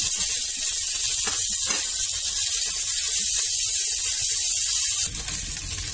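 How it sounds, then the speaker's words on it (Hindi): Chicken pieces for homemade barbecue wings fry in hot oil, a steady close hiss and crackle running almost six seconds with a few brief clinks partway through and a slight drop in level near the end; no one speaks. "तेल हमारा गर्म हो चुका है, हम डाल देंगे इसमें ये चिकन के पीसेस और इसे हम 5 मिनट के लिए भून लेंगे"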